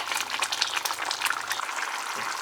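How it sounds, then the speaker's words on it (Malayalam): Egg curry gravy boiling in a pan, a close, lively bubbling and popping at a steady level, with no voices. "ഗ്രേവി നന്നായിട്ട് തിളച്ച് വന്നിട്ടുണ്ട്."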